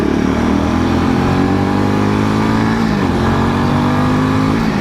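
A Royal Enfield Himalayan 450 motorcycle engine grumbles low and steady in second gear, a continuous close, loud drone with a brief dip in revs partway through.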